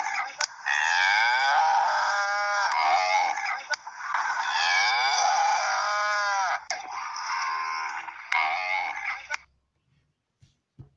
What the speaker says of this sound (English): It's a cow's sound.